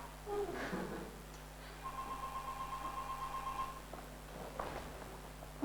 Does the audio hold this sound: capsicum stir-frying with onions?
no